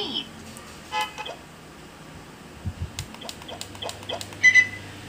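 A jeep horn sound effect plays from an RFID card early-education toy, giving short toots at a couple of points amid room noise and nearby talking.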